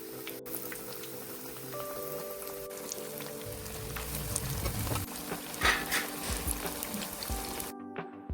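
Banana fritters (pazhampori) frying in hot coconut oil: a steady, dense crackle and sizzle continues throughout at moderate volume, with a few louder pops and a low hum underneath.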